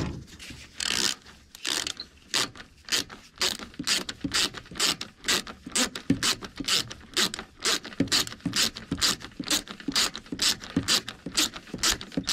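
A ratchet loosening 10mm bolts on the EGR valve of a 1998-2002 Lincoln Navigator, rapid rhythmic clicking bursts repeating close up, broken by brief pauses, with no talk.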